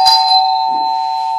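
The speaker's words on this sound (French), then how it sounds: "Coupée par le gong." A single loud gong-like chime strikes at once and rings on as a sustained, steady tone that slowly fades, with nothing else heard alongside it.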